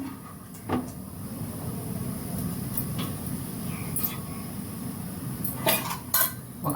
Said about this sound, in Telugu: స్టవ్ వెలిగించి గిన్నె పెట్టాను కదండి ఆయిల్ వేస్తున్నాను